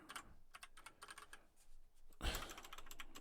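Computer keyboard typing, quick irregular bursts of soft key clicks with brief pauses, then a denser clatter with a louder thump toward the end, close and quiet.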